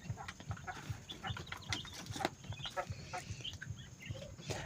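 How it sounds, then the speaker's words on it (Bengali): Small farm quail keep up a chorus of short, high chirps and clucks, busy and overlapping at a moderate distance with no one talking. "আজ আপনাদের দেখাতে যাচ্ছি আমার প্রিয় কোয়েল পাখিদের কিছু মুহূর্ত"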